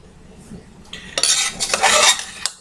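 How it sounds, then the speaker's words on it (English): Fruit crumble mixture spooned into a medium-sized baking dish: a run of close scraping and clinking of a spoon against the dish, busiest in the middle, with no voices. "I've got a nice medium-sized dish like this. We'll spoon in our mixture."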